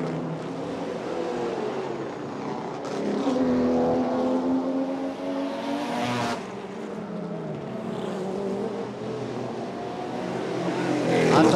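Race cars, including an Aston Martin and a Nissan GT-R R35, engines revving and droning continuously as they corner on a street circuit in Chonburi during a GT championship round, loud and steady.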